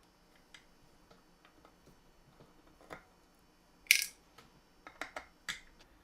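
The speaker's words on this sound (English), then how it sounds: "So grab your screwdriver and let's get inside this." A screwdriver working on the metal casing of a Boss Metal Zone guitar pedal gives faint scattered ticks, then a sharp metallic clink and a quick run of small clicks and taps near the end.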